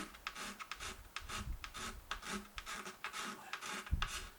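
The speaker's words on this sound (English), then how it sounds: "it'll create a burr on the opposite side, which is good enough to help me scrape this" A burred scraper rasps across the wood of an acoustic guitar side near a small crack repair, making quiet, close, repeated scratchy strokes in an uneven rhythm.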